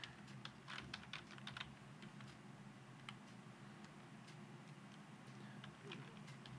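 Rapid typing on a computer keyboard, bursts of close key clicks with short pauses, under steady room hum while someone talks quietly in Spanish.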